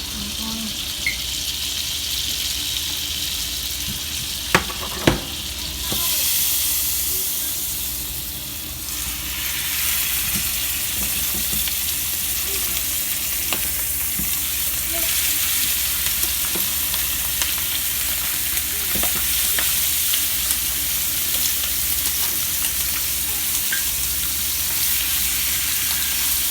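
Chicken sears in a pan of olive oil and butter, a steady broadband sizzle running the whole time with a few sharp clicks and utensil taps early on and brief stirring noises; no one speaks.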